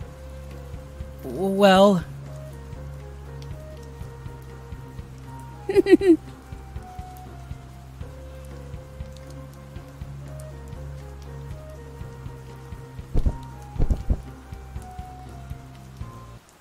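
Rain falling outside in the video game Camp Buddy, a steady, even patter running throughout beneath a low hum, with a few short voice and sound effect bursts on top.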